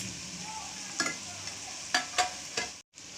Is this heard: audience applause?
no